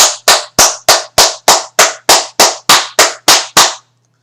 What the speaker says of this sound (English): I'm gonna give him a round of applause.